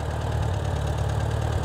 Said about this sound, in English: engine start binding down a little bit on that Jimmy Redfield.